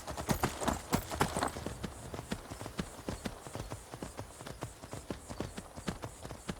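Horse hooves clip-clop at a steady riding pace in the video game Skyrim, a rhythmic run of close, distinct hoofbeats that is louder and busier at first, then settles into an even, slightly softer trot.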